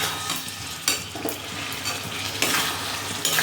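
Masala being stirred and fried in a pan: close scraping strokes over a constant sizzle, with sharper stirring bursts coming every second or so.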